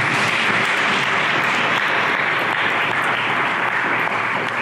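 A hall of fame ceremony audience breaks into a full, sustained round of applause, loud and dense for several seconds with no talking.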